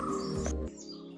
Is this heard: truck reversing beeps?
no